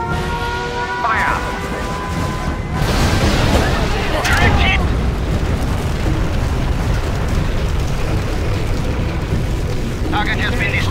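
Artillery bombardment in the strategy game C&C Generals, a loud, rumbling burst of explosions that rolls on as a sustained boom, with brief radio-style voice lines at the start and end.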